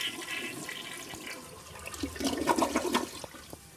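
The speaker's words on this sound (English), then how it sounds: "Let's flush the commode." A hotel toilet in a Hampton Inn room flushes, starting with a soft hiss, then a loud gurgling rush of water swirling down before settling into a quieter refill.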